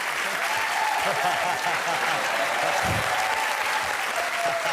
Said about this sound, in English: And then do your applause. Your applause over here.